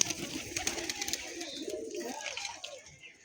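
A Golding pigeon, a high-flying breed, cooing softly in short soft murmurs close by, fading toward the end, with no talking.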